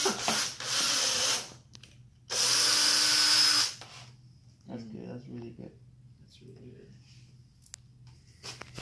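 Two loud bursts of a power drill whirring, the second longer and steadier, followed by quieter talking and shuffling.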